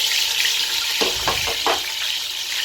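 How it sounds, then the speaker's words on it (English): Onions, salt and green spice fry in a big hot pot, giving a steady, close, hissing sizzle with a few short stirring scrapes clustered near the middle and no voices. "Let it fry for about 5 seconds. Stir it up so it shouldn't get burnt."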